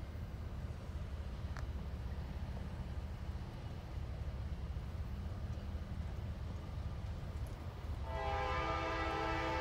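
A CSX freight train rolling along the tracks in Moreland, Georgia, a steady low rumble of wheels and cars that continues throughout, then a loud horn blast near the end.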